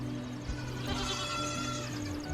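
Goats bleating on a muddy Missouri Ozarks farm after a storm, repeated wavering calls over a steady outdoor background hum.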